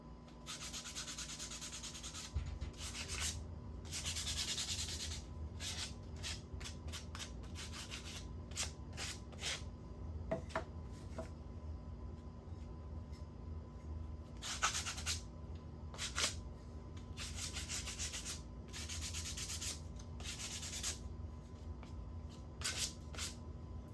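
Repeated short bursts of hand sanding on small wooden craft pieces, quiet scratchy rubbing strokes in an irregular rhythm with brief pauses between passes.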